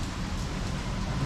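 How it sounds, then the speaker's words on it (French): Rain falling on a street in Guilin, southern China, forms a steady, even hiss with a soft low rumble beneath it, constant and uninterrupted throughout. "Alors là il est en train de pleuvoir."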